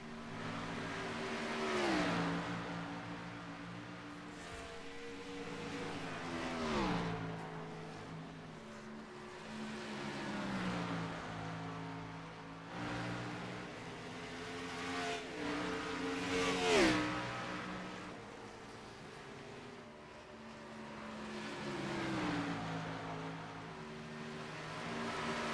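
Stock cars racing at Dover speedway, engines swelling and fading as cars pass in rhythmic waves, revving loudly with rising and falling pitch, no talk over the roar.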